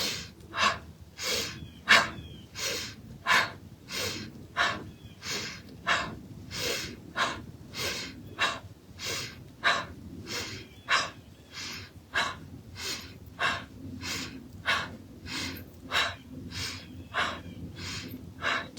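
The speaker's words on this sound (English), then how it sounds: "we'll come back to some of those clearing ha breaths here" Forceful open-mouthed exhaled breaths repeat in a steady rhythm during a yoga breathing exercise, each sharp airy burst following an inhale, close and clear with no talking.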